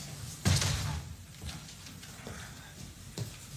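A door swings shut with a solid thud in an indoor scene from a French film, one clear slam near the start followed by softer knocks and room noise.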